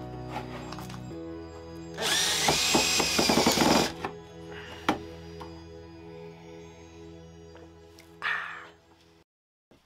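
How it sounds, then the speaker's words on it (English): A power drill bores into an IKEA LACK shelf in a loud burst of a couple of seconds, followed by shorter drilling and tool sounds over a steady background hum. "I'm gonna mark the holes and pre-drill the whole thing"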